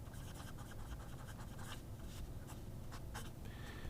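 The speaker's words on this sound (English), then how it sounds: "how smooth this nib writes, despite it being fairly rigid" A fairly rigid Magna Carta medium steel nib scratches lightly across paper in quick, soft strokes, faint and close over a low background rumble, without any talking.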